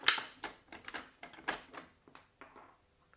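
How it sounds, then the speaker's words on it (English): A 1950s Italian flip clock mechanism makes a string of sharp, close mechanical clicks and ticks in an irregular rhythm, loud at first and thinning out toward the end. "hopefully not annoy the housemates any longer with this clicking sound"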